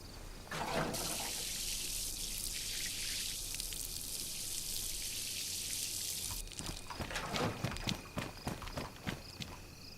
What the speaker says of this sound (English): Now I'll pour some of that away.